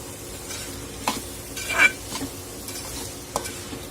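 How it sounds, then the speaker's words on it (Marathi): Ground peanut powder being stirred into vegetables frying in a pan, a gentle sizzle with a few spoon scrapes and clinks against the metal, one louder scrape in the middle, close and fairly quiet, no speech. "शेंगदाण्याचं कूट घालून घेणार आहोत आपण यामध्ये आणि परत एकदा मिक्स करून घ्यायचं आहे"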